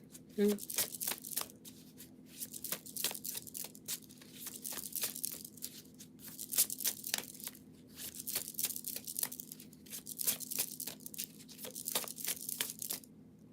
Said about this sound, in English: These cards shuffle nicely.